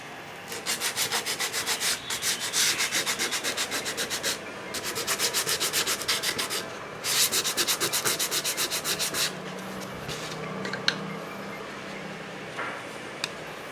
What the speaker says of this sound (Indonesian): dan kita haluskan dengan menggunakan amplas